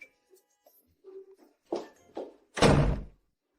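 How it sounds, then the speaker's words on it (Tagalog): A door is shut indoors: a few soft shuffles and light taps lead into two muffled knocks, then a single firm thud as it closes, followed by quiet. "Isara mo ang pinto."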